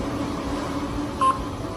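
A single short electronic beep from the control panel of a Sansei SA-MQ4 electronic straight-stitch sewing machine as it unlocks, clear over a low background hum.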